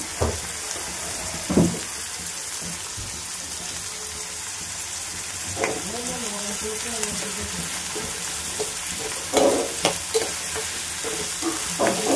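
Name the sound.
onions and curry leaves frying in a pan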